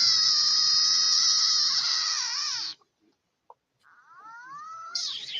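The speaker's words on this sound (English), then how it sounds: "So here's multiple frogs, guys. Oh yeah, they sound like cats." Several frogs give loud, wailing, cat-like calls, a long sustained cry that breaks off into a brief silence and a single click, then rises again in further drawn-out calls.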